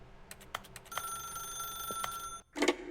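An office telephone rings in The Stanley Parable Ultra Deluxe, several bright electronic trills with short gaps between them, then a brief break before a final burst. No voices are heard.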